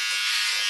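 Electric shaver or clippers shaving a head, giving a steady close high-pitched buzz that holds unbroken throughout, with no talking.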